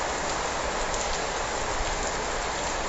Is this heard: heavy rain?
yes